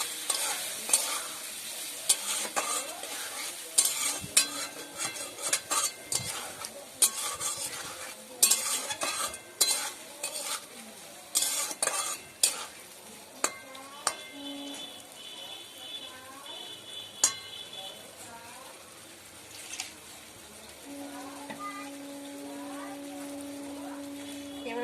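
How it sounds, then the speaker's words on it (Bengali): Fried potatoes sautéing with spices and a little water for a shoal fish curry with pumpkin, a quiet sizzle broken by frequent sharp clinks and scrapes of a spoon against the pan, with a voice talking at points. "আমি এবার এর মধ্যে দিয়ে দিব ভাজা আলু। এবং সামান্য পরিমাণ জল, আলুটা যাতে একটু ভালো করে কষানো যায়।"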